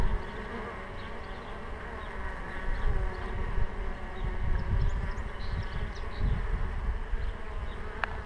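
Honey bees flying in to the hive with April pollen, a dense, steady buzzing swarm drone close by, with many wingbeats overlapping continuously.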